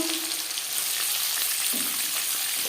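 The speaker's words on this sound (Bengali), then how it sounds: "10-15 সেকেন্ড 5 ফোড়ন শুকনো লঙ্কা ভেজে নেওয়ার পর দিয়ে দেবো কুমড়ো" Pumpkin frying in refined oil with five-spice and dried chilli, a steady close sizzle with faint stirring running throughout.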